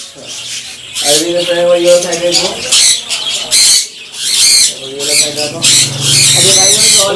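Pet birds at a bird seller's stall squawk loudly and repeatedly in bright harsh bursts close by, with people talking over and between the calls.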